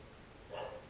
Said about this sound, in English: excuse the dog, she's going nuts